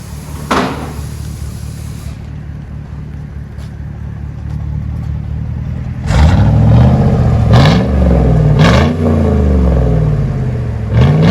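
A deep Chevy Tahoe 5.3L V8 engine idles with a low rumble, then the exhaust roars loudly through several revs, rising and falling in pitch, close by.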